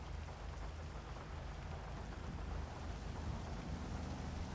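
Steady rain falls in a GTA Online weather scene, a constant dense hiss with low rumbling undertone, even and unbroken throughout at a quiet level.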